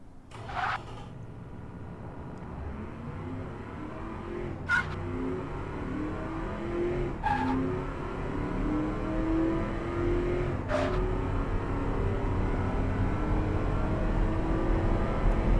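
A 1970 Marina Spark MkIII car engine in the video game Automation revs and pulls hard, its pitch climbing steadily across the clip, loud and continuous, with a few sharp gear-shift blips along the way.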